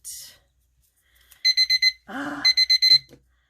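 A craft-session timer alarm goes off in two bursts of rapid, evenly spaced electronic beeps, fairly close and clear, with a brief squeak between the bursts.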